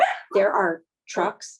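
A dog barks and yips a few times close by, in short bursts that overlap and alternate with a person talking.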